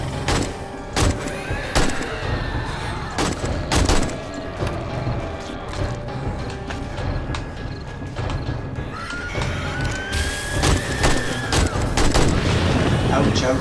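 Gunfire in the video game 7 Days To Die during a horde night: dense, continuous rapid shots and impacts blend into a loud, busy game soundscape, with a voice faintly underneath.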